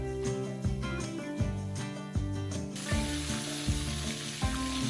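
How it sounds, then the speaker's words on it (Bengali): Prawns fry briefly in mustard oil, a steady sizzle running underneath a louder, rhythmic pattern of tonal music that dominates the clip. "এরপর সর্ষের তেল দিয়ে ভেজে নিচ্ছি"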